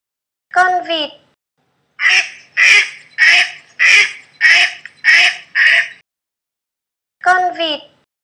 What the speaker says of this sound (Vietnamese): Con vịt.